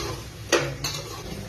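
Soybean chunks tossed in oil in a pan: two close metal scrapes of a spoon against the pan over a faint steady background, with no talking.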